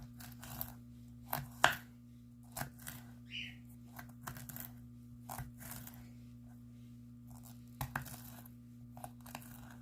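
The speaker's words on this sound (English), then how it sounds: "For these bits here, I'm going to chop those into strips" A knife chopping vegetables into strips on a board for budgie food, with irregular close taps and a few sharper cuts over a steady low hum.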